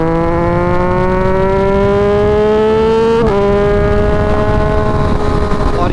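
Motorcycle engine running in road mode during a ride, a loud steady tonal drone that rises gradually in pitch through the gears, with a brief shift blip midway, close and continuous.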